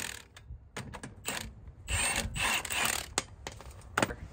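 Impact wrench on the rear toe bolts of a BMW E46 trailing arm, firing in several short rattling bursts with brief pauses between, close and fairly loud, no talking.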